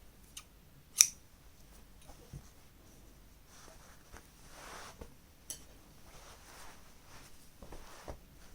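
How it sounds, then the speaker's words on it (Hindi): Scissors snip crochet thread with a sharp, close click, followed by a few faint handling taps and soft rustles in a quiet room. "यहाँ पर हम धागा काट देंगे।"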